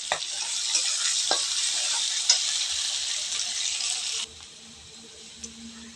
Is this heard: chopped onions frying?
yes